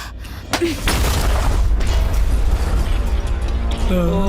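A bomb blast in the film Tik Tik Tik, heard as a sudden loud burst followed by a heavy, sustained low rumble with scattered debris and creaking noises, near and dominant, no talk.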